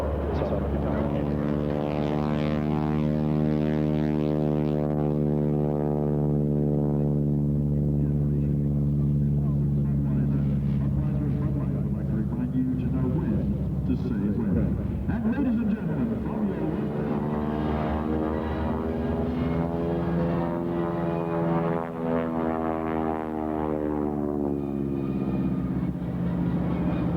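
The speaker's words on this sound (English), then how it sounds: "This is airplane starting off live at Marine Corps Air Station El Toro" An AT-6 Texan (SNJ) propeller plane at an air show at Marine Corps Air Station El Toro, its engine droning steadily and loudly throughout with a wavering pitch, while someone talks over it.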